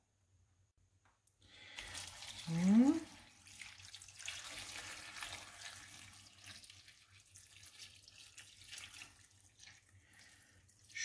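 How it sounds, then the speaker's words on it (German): Tap water running into a MicroQuick microwave pressure pot, a steady hiss of filling water that starts abruptly, swells briefly as the stream hits, then settles into continuous pouring; a voice speaks a single short word near the start. "und jetzt fülle ich den mit Wasser auf"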